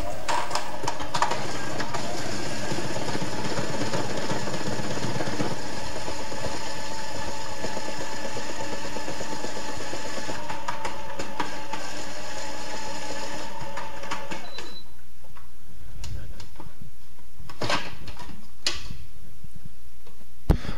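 A multicooker blender whirs continuously as it blends a watermelon smoothie with ice, a steady mechanical drone that runs loudly for about fourteen seconds before cutting out, leaving faint clicks and quiet handling noises.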